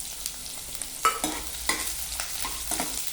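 Onions, green chillies and curry leaves frying in a pan over medium flame, a continuous close sizzle broken by several scraping stirs of a spatula.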